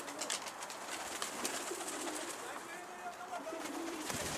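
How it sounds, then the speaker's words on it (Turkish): Pigeons near a rooftop loft give soft, low cooing calls under scattered outdoor noise and light rustling, fairly close, with background voices faint at times. "Kuş geldi şimdi."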